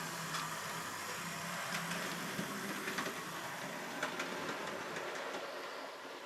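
A Hornby Olton Hall model locomotive pulling its rake runs along the track toward a tunnel, a faint steady whirring with light rhythmic clicks from the wheels.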